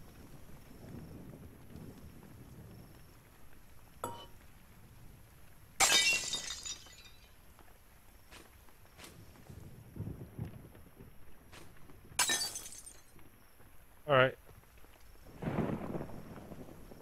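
Glass smashed with a crowbar in the game Klepto: a few sharp, bright shattering crashes spaced apart, separated by quieter low thuds and ambient rumble.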